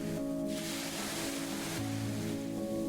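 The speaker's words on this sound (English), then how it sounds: "The waves roared." Ocean waves crashing in the video game Mamiya, a broad roaring surge of surf that swells and recedes over a steady background tone, with no voices.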